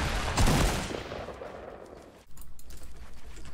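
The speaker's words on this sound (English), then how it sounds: "I'm gonna shoot." Gunfire from a video game: a loud close shot or burst opens the clip, then a lull, then a run of quieter rapid shots in the distance, with no speech.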